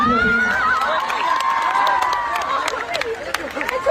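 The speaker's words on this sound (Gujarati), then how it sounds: "તો જોરદાર તાળીઓ થઈ જાય લાલોના સો કરોડ માટે" A crowd at a celebration for the Gujarati film Laalo applauds and cheers in a steady wash of clapping and whoops, with voices calling over it throughout.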